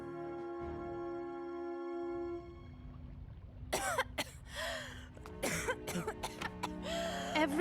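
A man coughs and clears his throat several times in a quick, rough cluster, loud and close, after a steady low hum like a ship's engine.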